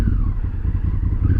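A Honda Africa Twin motorcycle engine with its stock exhaust runs close by, a loud, steady low rumble with a faint clattery texture and no talking.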